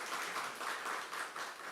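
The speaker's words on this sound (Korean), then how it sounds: "박수하겠습니다." Brief soft applause from a church congregation during an Easter service, a faint, distant burst of clapping lasting under two seconds.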